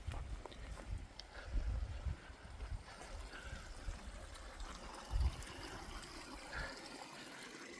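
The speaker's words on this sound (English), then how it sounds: "the trail runs right along this creek for a good portion of this section of the CDT" Creek water flows steadily along a stretch of the Continental Divide Trail, a soft continuous outdoor wash with a few louder splashes and low rumbles, no talking.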